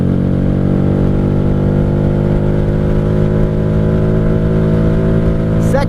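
A 1995 Honda Shadow VLX 600 (VT600CD) motorcycle accelerating hard in second gear, a loud, steady engine drone with rising pitch and rumble, heard close from the rider's position.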